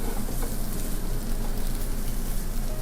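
Egg bhurji, scrambled eggs with masala, sizzling steadily in a pan over medium heat, a close, dense, even frying hiss that runs without a break and with no voices.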